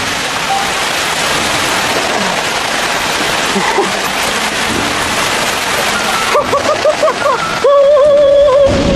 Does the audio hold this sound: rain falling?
yes